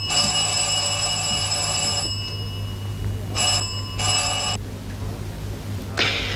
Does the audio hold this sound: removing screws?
no